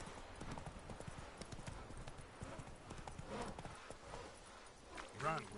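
Roach, Geralt's horse in The Witcher 3, gallops with quick, steady hoofbeats, a short whinny or snort near the end, and background game sounds under a voice speaking.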